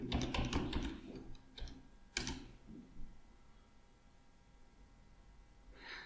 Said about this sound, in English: So here we can type npm run build.